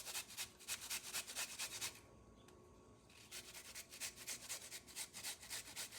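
Fresh ginger is grated in quick rhythmic rasping strokes, close and fairly quiet, with a short pause in the middle before the scraping resumes.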